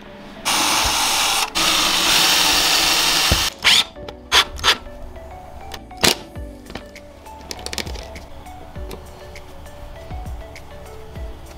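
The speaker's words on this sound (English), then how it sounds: "I'm going to pre-drill a couple of little tiny holes in the siding to run these screws into" Power drill pre-drilling small holes in fiber cement siding during home building, a loud steady whine for about three seconds, then short bursts, clicks and handling knocks, close up with no talking.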